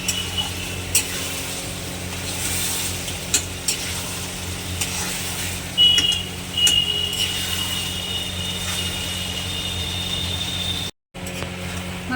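Mutton frying in a pan with cabbage while a utensil stirs it, a steady sizzle with scraping and clinking strokes, close and continuous, with a brief silent gap near the end.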